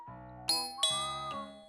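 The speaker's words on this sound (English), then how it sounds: "As the doorbell rang, Moe rushed towards the entrance." A doorbell at a home entrance rings with bright chime tones. Three clear ding strikes each ring out and overlap, close and fairly loud, with no voices.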